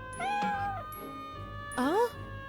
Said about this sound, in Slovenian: Ta mucek je neznosno prikupan.